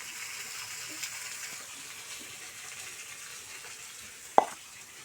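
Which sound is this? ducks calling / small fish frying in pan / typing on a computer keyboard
small fish frying in pan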